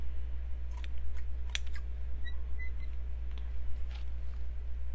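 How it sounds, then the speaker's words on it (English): Scissors trimming ribbon on a pumpkin decoration craft, a few quiet, sharp snips and clicks spread over a steady low background hum, with no talking. "I'm going to trim these off. I think I'm going to use the scissors,"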